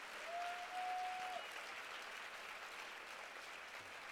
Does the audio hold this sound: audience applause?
yes